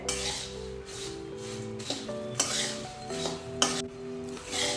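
Puffed rice chevdo being stirred with sev and spices in a pan, a close rustling and scraping of dry crunchy mix against metal in several sweeps, alongside light clinks of a spoon, with no talking.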